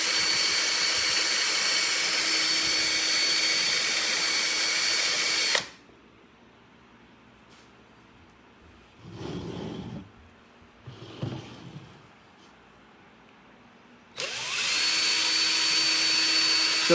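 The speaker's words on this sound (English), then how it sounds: "turn the settings down on whatever drill or mixer you're using" A power drill mixer whirs loudly and steadily while stirring epoxy for a countertop, falls silent for several seconds with a couple of brief soft stirring noises, then starts up again.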